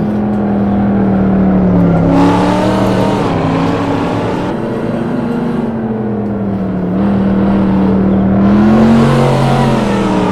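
A 1995 SVT Cobra R engine in a racing sim on the Nürburgring Nordschleife, loud and sustained, its pitch rising and falling through gear changes and throttle, with no voices over it.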